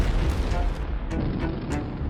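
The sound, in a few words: cannon fire from Portuguese warships bombarding Jeddah, sound effect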